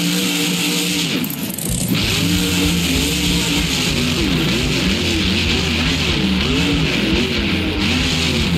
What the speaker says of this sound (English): now Grave Digger is heading out to look for our next hidden monster truck